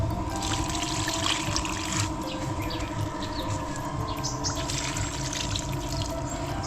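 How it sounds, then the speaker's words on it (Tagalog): Leftover soaking water being poured onto potted garden plants outdoors, a steady splashing trickle running throughout at close range, with birds chirping faintly in the background and no talk. "Tapos yung tubig, kasi nanghihinayang ako sa tubig, ito yung pinandidilig ko dito sa aking mga halaman."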